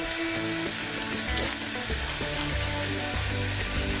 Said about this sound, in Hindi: फिर हम इसमें सफ़ेद ज़ीरा डाल देंगे 1 टीस्पून और पिंच हींग डाल देंगे